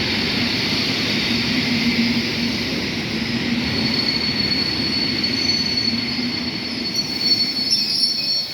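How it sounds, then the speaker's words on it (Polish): A train rumbles past on the rails at Tarnów, Poland, with a steady roar and high metallic wheel squeal throughout, close and loud. "Jedzie pociąg"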